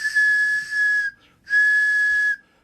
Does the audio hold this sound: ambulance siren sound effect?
no